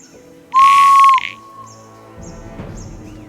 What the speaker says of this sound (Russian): сделает седло и свисток, от которого я чуть не оглох